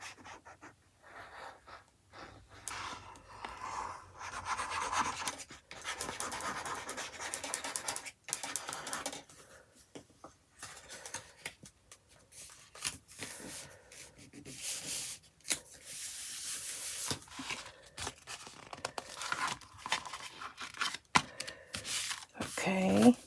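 Paper journal page rubbed shut after gluing, a dry scuffing and sanding texture in repeated strokes, close and fairly soft, with a few taps and pauses along the way.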